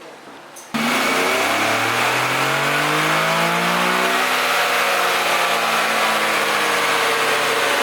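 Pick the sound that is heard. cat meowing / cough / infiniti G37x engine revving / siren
infiniti G37x engine revving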